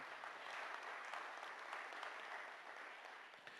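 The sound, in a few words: audience applause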